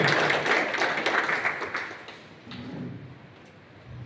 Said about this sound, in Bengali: এই জন্য ওনার জন্য একটা জোর হাততালি চাইছেন